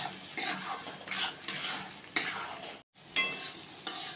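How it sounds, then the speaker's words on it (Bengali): Spices with Kashmiri chili powder stir-fried in a pan for chicken kosha, with rhythmic spatula strokes scraping through a sizzling masala, repeated bursts with a short silent gap near the end and no voices. "এখন এই সব মশলাগুলো দিয়ে ভালো করে কষিয়ে নেব।"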